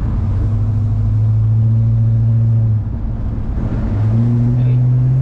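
A 1970 Pontiac LeMans with an American V8 and a 3-speed automatic gearbox cruises and accelerates. A steady, droning engine hum briefly drops, then climbs again, heard from inside the car at moderate loudness.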